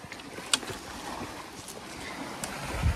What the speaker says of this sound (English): And then you go back out here and it's just windy,